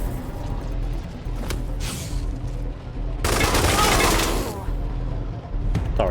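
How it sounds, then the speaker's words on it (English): Gunfire in the video game Wasteland 3, shots fired through a wall during a fight: repeated bursts and a loud sustained volley mid-clip, mixed with game effects over a constant low background hum. "I'm shooting through the wall."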